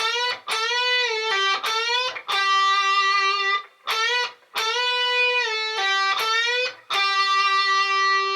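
Distorted electric guitar phrases with bent notes, pull-offs, slides and wavering vibrato, played in short bursts separated by brief pauses, loud and close.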